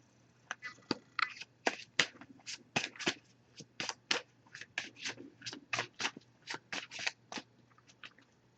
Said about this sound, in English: I'm going to give it a few more shuffles now